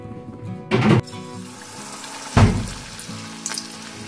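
Battered spiny gourd hits hot mustard oil in a wok, giving two loud bursts of sizzling, the second fading into a steady, softer crackle of deep frying.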